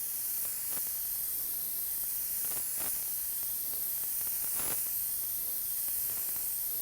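A spray gun blows a steady, even hiss of air to dry a candy red paint finish, with a few brief louder bursts along the way.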